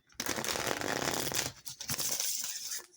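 Tarot cards shuffled by hand, a dense riffling burst lasting over a second, then lighter, broken card flicks and taps close by, with no talk.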